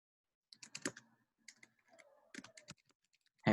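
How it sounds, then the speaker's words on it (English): Bursts of typing on a computer keyboard, quick clusters of crisp key clicks separated by short pauses, close and clear against a quiet background. "I'm just typing this up and putting it in the chat so it's easy to reference."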